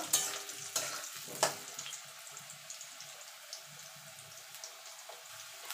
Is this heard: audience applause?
no